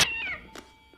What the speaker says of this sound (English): Always the cat. Always the damn cat.